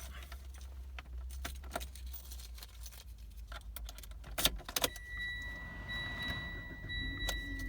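A 2019 Mitsubishi Outlander Sport engine cranks and catches, then settles into a steady idle, with a jangle of keys and some rustling and clicks up close.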